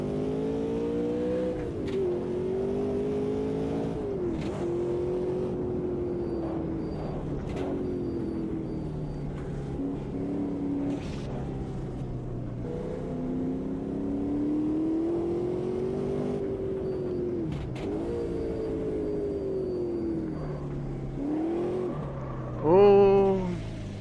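A race car engine in Automobilista 2 revs and bogs in second gear through a corner slide, with the pitch rising and falling in long sweeps, loud and steady throughout.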